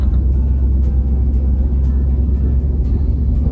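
A 1976 Chevy Van engine rumbles loudly and steadily from inside the cab while driving, with a deep, constant drone and a few faint clicks and rattles on top.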